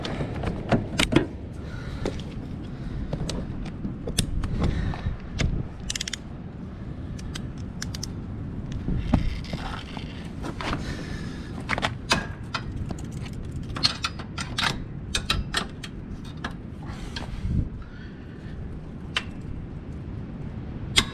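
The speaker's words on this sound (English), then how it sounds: "take out these 3 bolts. Gonna have to use the wrench" Metal wrench clicks and clanks against bolts on a Craftsman LT1000 riding mower while the front axle is being replaced, a steady run of sharp close-up ticks and knocks over a low background rumble, with no talking.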